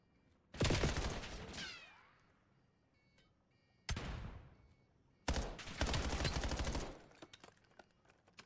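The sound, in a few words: gunfire in Call of Duty video game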